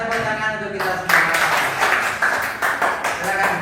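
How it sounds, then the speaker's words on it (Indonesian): An audience applauds at an Indonesian gathering after a recitation about the five daily prayers, with a loud crowd of clapping hands mixed with chatter and voices, fairly close and continuous with a few sharper bursts. "Ya, tepuk tangan untuk kita semua."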